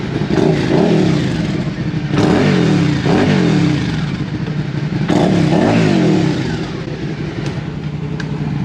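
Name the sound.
motorcycle exhaust revving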